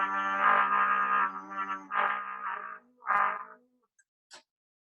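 A brass horn plays a few short held notes, bright and buzzy, separated by pauses, then falls silent.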